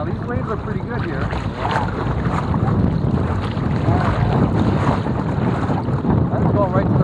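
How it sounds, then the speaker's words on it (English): Waves lapping against a double kayak out on open water, a continuous close churning wash with heavy wind buffeting the microphone and people talking over it. "Now these waves are pretty good here."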